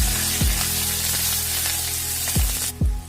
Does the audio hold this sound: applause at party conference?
no